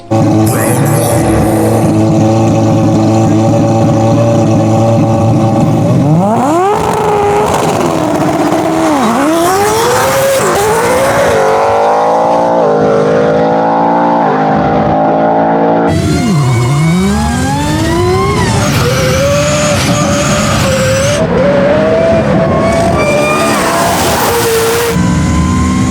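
A custom 4-rotor Mazda RX-7 and an 850hp Coyote V8 Ford F-150 work truck drag race, engines idling then screaming up through repeated rising revs and gear shifts, loud and close with a crowd around.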